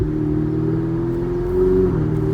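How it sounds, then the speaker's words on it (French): A Ferrari 488 Spider's deep, steady exhaust drone in race mode, close and loud, rising slightly in pitch as it revs briefly. "Quand on se met en race, le son de l'exhaust change légèrement."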